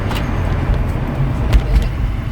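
A car drag-races a truck on a Florida road with a child in the back seat, producing a loud, close engine roar and road rumble from inside the cabin, with a few thumps and no talking.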